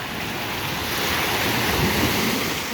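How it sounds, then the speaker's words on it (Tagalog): Strong ocean waves break on a beach in a loud, continuous roar of surf with wind noise, steady and close, with no voices. "Ang lakas na ng wave. Lakas ang alon."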